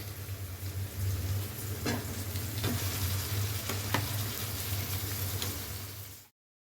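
Boiled taro leaves fry with salt and turmeric in a pan, a dense close sizzle with a few spatula stirring knocks over a low hum, cutting off abruptly at the end.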